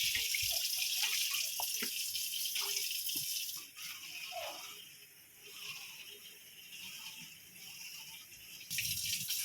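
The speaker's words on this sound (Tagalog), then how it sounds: "Lagyan natin ang tubig." Water runs and splashes into a pot, a steady watery rush with faint rattles and drips, easing off midway before the pour grows louder again near the end.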